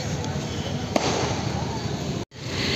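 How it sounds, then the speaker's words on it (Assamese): Firecrackers burst outside a shop during an Assamese shopping outing, a sharp crack or two standing out over a continuous noisy background, followed by a brief dropout. "এই ফটকা মাৰি"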